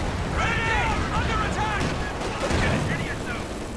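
Gunfire and battle noise from the World War II strategy game Company of Heroes 2, with a Panzer IV, M10 and anti-tank gun in play: a dense, steady barrage of shots and rumble that fills the clip, under a commentator's voice.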